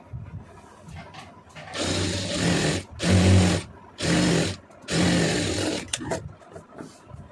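A sewing machine stitches the folded waist of a blouse in four bursts of steady whirring, each lasting about a second, with short pauses and small clicks between them.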